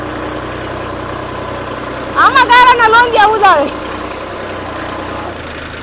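A low tractor engine rumbles steadily at idle throughout, while someone speaks briefly over it partway through.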